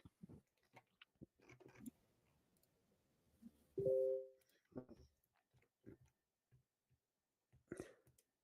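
A toy cat phone gives off a short bright electronic tone, with a few clicks and taps around it, amid a quiet indoor setting with people talking.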